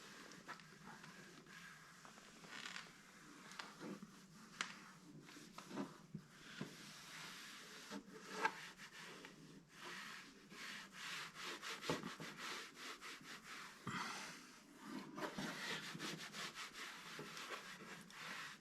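Cloth rubbing plastic restorer into textured motorcycle plastic, quiet close scrubbing strokes in an irregular back-and-forth rhythm, soft and continuous with no talking.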